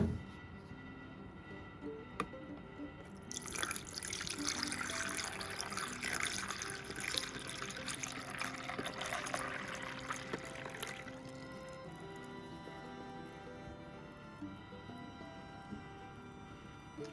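Bottled water is poured from a measuring cup into the reservoir of a Suripow coffee machine, a steady close splashing trickle lasting several seconds before tapering to quiet drips.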